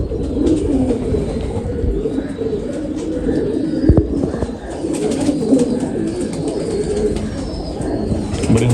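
Pigeons coo steadily and close by, a low throaty murmur that continues throughout with a few faint chirps and rustles.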